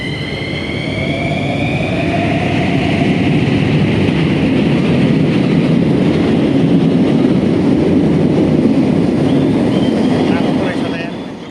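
Bucharest metro train rumbling loud and close, a sustained roar with a rising then falling whine at the start.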